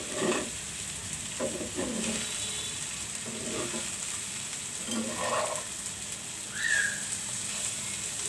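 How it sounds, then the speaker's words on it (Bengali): Bitter gourd fries slowly over low heat, a soft sizzle with occasional stirring scrapes and a brief high whistle near the end, without any voice. "একদম কম চুলার আঁচ দিয়ে আমি করলা ভাজিটা করতেছি"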